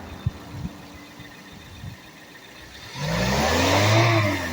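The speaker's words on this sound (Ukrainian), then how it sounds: "А можете натиснути на газ, там тисяч до трьох натиснули, відпустили, тримати не потрібно." A 2016 Suzuki Vitara idles quietly with a few small knocks, then its engine is revved to about 3000 rpm, a loud rising whir that holds and begins to ease off, close by.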